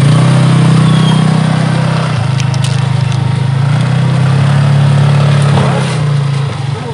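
Motorcycles roll onto a river ferry amid a loud, steady engine drone that hums continuously throughout, with a few faint clanks and no clear speech.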